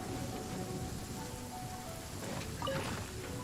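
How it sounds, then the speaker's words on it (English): In Genshin Impact, a lightning storm brings steady, fairly faint rain across the whole stretch, with a brief crackling rumble near the end. "it's a lightning storm and lightning can actually kill the crabs too"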